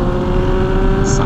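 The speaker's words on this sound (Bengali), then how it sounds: "এই যে সুপার বাইকের সাউন্ডটা" A Suzuki Hayabusa superbike engine runs loud and close in a steady, sustained drone, with no clear rise or fall in pitch.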